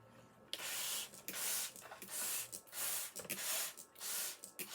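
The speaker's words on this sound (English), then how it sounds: "And then we're going to take Mr. Spray Bottle" A spray bottle squirts water onto planted seeds in a series of short hissing bursts, about five, evenly spaced with brief pauses between them, close by.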